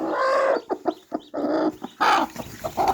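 An Aseel hen clucks near newly hatched chicks in a village yard, giving close, repeated soft clucks and short calls in an uneven rhythm, with no voices.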